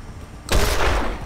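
A sudden loud burst of gunfire in the turn-based video game Wasteland 2 erupts after a moment of quiet ambience, a heavy blast that rings out and fades.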